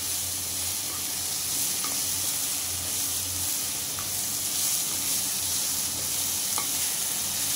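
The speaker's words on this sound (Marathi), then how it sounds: "तेवढी भाजी आपण टाकली अगोदर थोडी परतून घ्यायची" Wild taklya greens sautéing in a pan, a continuous close sizzle and hiss with faint scraping from stirring, steady throughout with no one speaking.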